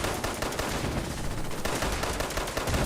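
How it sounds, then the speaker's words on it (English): Dense rapid gunfire and cluster grenade blasts in the video game Fallout 76, a loud continuous barrage of overlapping shots and bursts with no pauses. "Holy mackerel, he's doing cluster grenades."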